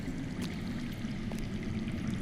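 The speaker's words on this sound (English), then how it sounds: "I hear water. From underground." Water trickles underground in a Game of Thrones video game, a steady faint wash of flowing water with soft dribbles, continuous and distant, with no voices.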